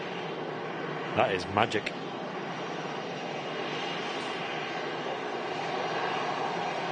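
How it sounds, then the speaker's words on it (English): Air Transat Airbus A330-200 airliner on final approach at Manchester Airport, a steady, broad jet roar held throughout and swelling slightly toward the end, with someone briefly talking early on. "That's now on final approach. Air Transat A330-200 from Toronto."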